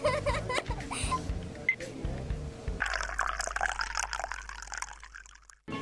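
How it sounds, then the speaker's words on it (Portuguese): Running water in a cartoon scene, a gushing, trickling flow with splashy liquid texture, loud and close, shifting into a steadier pouring stream partway through. "As imagens e sons da água correndo estão deixando o Tony louco."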